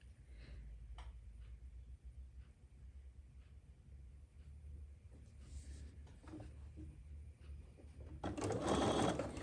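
A sewing machine stitches pre-cut quilt pieces with a faint, quick mechanical patter, steady and close, ending in a louder burst of rustling fabric handling.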